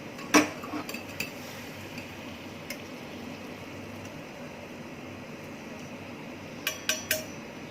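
Cooked jaggery syrup is strained in a kitchen after the gas is switched off, with a few sharp metal utensil clinks near the start and a cluster near the end over a quiet background hum, with no talking.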